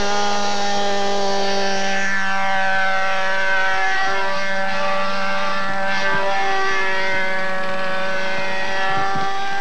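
Propeller aircraft flying an aerobatic demonstration, a loud sustained droning engine tone with strong harmonics that shifts slightly in pitch as it maneuvers overhead.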